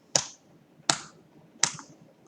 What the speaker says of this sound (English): So let's do it again, clapping the first line